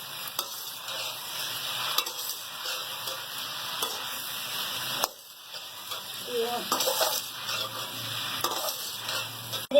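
Aloo gobhi curry with ginger stirred in a pan, a steady sizzling hiss with scraping stirs, briefly dropping out midway before resuming, close by.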